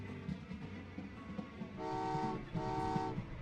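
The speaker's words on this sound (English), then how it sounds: "I'll wait for a train to come in" An arriving train in the railway strategy game Train Valley 2 sounds two clear, steady horn toots, each about half a second long, over a low rumble with no talking.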